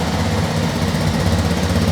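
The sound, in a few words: Kawasaki KLX 230 RS motorcycle engine idling after start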